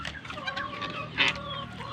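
Roosters clucking in short, irregular bursts at moderate distance, with one louder squawk partway through over light farmyard background.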